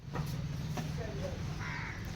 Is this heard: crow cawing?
yes